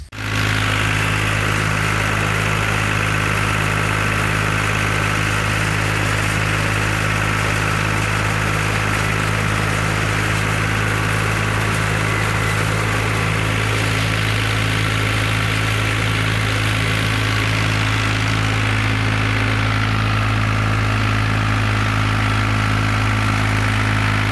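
A farm tractor engine idles steadily before hay cutting, a loud continuous low mechanical hum with constant tone throughout and no speech.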